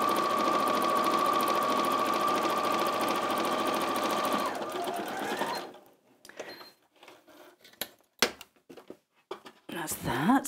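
Janome Atelier 9 sewing machine stitching, a steady fast mechanical whirr with a high motor whine that runs for several seconds and then stops, followed by faint handling clicks and someone talking.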